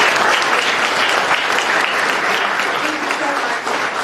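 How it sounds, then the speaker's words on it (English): A crowd at a political forum in Ohio claps steadily in a dense round of applause, loud and sustained throughout, with a few voices mixed into the clatter. "Let's give a round of applause to Dom and the Steve Cuyahoga Valley Republicans."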